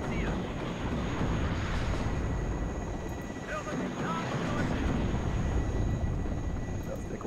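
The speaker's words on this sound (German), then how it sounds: "Hubschrauber gegen die Grenadiere." A military helicopter in the strategy game WARNO makes a continuous rotor and engine rumble with faint choppy pulsing, steady and moderately close, with some background speech mixed in.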